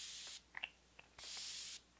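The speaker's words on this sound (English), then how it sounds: "I hope you can hear how beautifully this sprays out" A makeup setting spray mister lets out two long, steady hissing bursts, close and fairly loud, with a few small clicks from the nozzle in the quiet gap between them.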